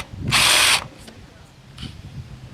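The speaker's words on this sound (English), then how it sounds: "We got a 3/16 drill bit," A power drill fitted with a 3/16 bit bores a hole in a part of a Craftsman 5hp 2400 watt generator, giving one loud, short whine of under half a second, then faint clicks and low background noise.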